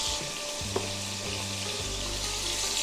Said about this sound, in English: We are one batch away from being done with browning our meat.